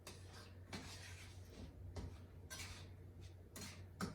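Stirring mango sauce in a kitchen pan: a utensil scrapes and clinks against the pan in irregular strokes, close and fairly quiet, over a steady low hum, no talk.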